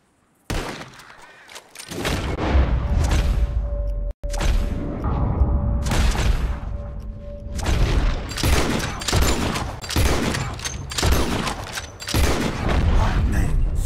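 Rapid bursts of gunfire in Red Dead Redemption 2, fired at birds during a shooting contest. Loud, close shots overlap in a dense volley with brief gaps between them, and a voice is heard talking.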